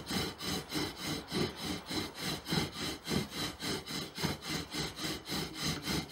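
A bow drill spins an osage orange spindle against an oak fireboard to make friction fire, with a steady rhythmic back-and-forth rasp of about two strokes per second, close and continuous.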